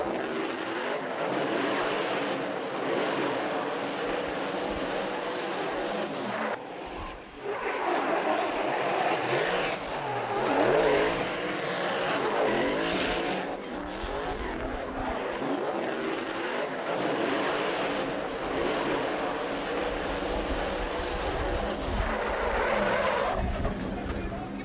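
A BMW F22 220i M Sport drifts in a snow-course competition qualifying run, its engine roaring steadily and tyres skidding throughout, with a commentator's voice faintly beneath.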